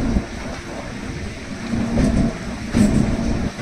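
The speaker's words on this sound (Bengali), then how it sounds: "এদিকে আমাদের লোকাল ট্রেনটাও এগিয়ে চলেছে।" A local train from Howrah to Kamarpukur rumbling along the tracks before dawn, a loud steady low roar with swelling surges of wheel and carriage noise heard from on board, no talking.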